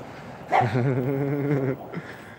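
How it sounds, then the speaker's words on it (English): One drawn-out, whining bark or howl from a dog, close and fairly loud and lasting about a second, with no speech. "Oh, there's dogs over here too."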